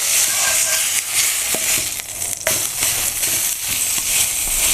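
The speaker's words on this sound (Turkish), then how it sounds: "Diğer tarafta mühürlemem devam ediyor." Beef tenderloin sears in a hot pan with a loud, continuous bright sizzle, broken by a few small crackles and a brief dip as the meat is shifted.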